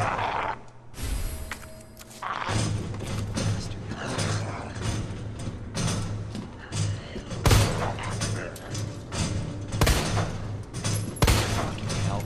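Gunfire in Resident Evil 2: repeated sharp shots crack out over a steady low mechanical hum and game ambience, spaced irregularly across the scene, with a few louder bursts standing out.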